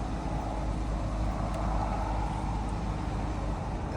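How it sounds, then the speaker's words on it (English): The engine of a 2015 Jeep Grand Cherokee is held at a constant RPM, giving a steady, loud, close hum that stays unchanged throughout with no talk. "you want to slowly go and keep it at a constant RPM"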